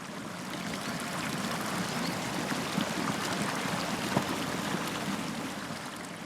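Water rushes steadily through a village irrigation channel in Oman, a close, constant broadband flow with no breaks.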